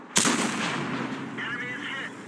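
A tank gun fires once in the World of Tanks video game, a sharp loud blast that rolls into a rumbling decay, followed by a faint mechanical whine.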